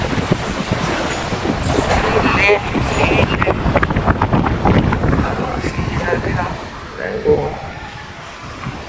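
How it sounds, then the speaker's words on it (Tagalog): Strong typhoon wind roars and buffets against the microphone in steady gusts, with a voice speaking underneath the rushing noise. "Hangin lang yan."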